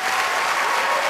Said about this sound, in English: a huge round of applause for Blackies!